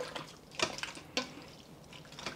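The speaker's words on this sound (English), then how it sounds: "then we're going to add water" Water pours into a 6-quart Instant Pot already holding about 3.5 pounds of meat for a soup broth, heard as a few short, fairly quiet splashing bursts rather than one steady stream.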